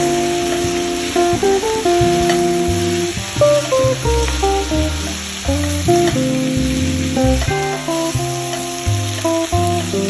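Onions and tomatoes for Kerala-style prawn roast sauté in a pan, a continuous frying hiss running beneath prominent melodic background music.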